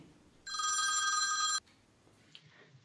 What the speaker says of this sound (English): I think the phone is ringing